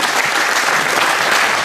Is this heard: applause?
yes